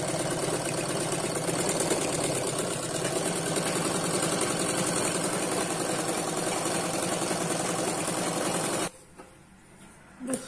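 A sewing machine stitches a petticoat in one long continuous run, a steady close mechanical hum with a rapid needle rhythm lasting nearly nine seconds before cutting off abruptly, leaving quiet room noise.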